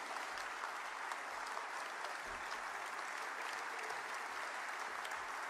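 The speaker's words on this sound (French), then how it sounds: "Et je voudrais qu'on les applaudisse." At the FNSEA 2024 congress opening, a large audience applauds volunteers and steering committee members, a continuous, fairly distant roar of clapping that stays level throughout without voices.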